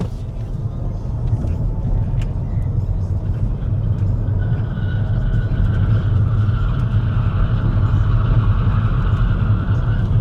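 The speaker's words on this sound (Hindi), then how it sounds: "एक बड़ा सा लूप आने वाला है एंड स्पोर्ट मोड में ऑलरेडी कार है, सो लेट्स पुश इट।" A BMW electric car is pushed hard in sport mode around a large loop on fresh tarmac, giving a steady, loud cabin rumble of road and tyre noise with a faint rising whine and someone speaking over it.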